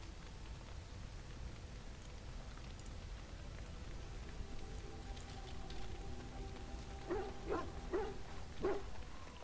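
A dog in Dragon Age: Origins gives several short, sharp barks and yips near the end, faint and fairly close, over a quiet steady background hiss.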